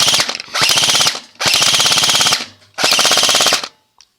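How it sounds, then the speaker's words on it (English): An airsoft AEG fires three rapid full-auto bursts, each a loud, close, mechanical rattle lasting about half a second to a second, separated by short pauses with no talk. "You could be throwing shots downfield and you don't know you're empty."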